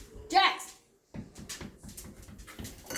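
A dog whimpers near a kitchen while pulled pork is being prepared, a brief high whine followed by a pause, then talk continues over it.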